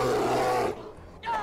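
A bear's roar in Skyrim, one loud rasping bellow sustained for most of a second before breaking off, followed by a brief shout.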